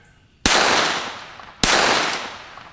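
Two sharp gunshots from a KelTec P17 .22LR pistol, spaced about a second apart, each a loud crack with a short ringing decay and no voices between.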